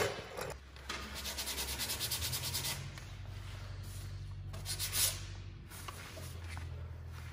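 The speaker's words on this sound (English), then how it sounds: "probably got a couple more hours of sanding" Steady back-and-forth sanding scrapes against wood, close and continuous, with a low hum running underneath.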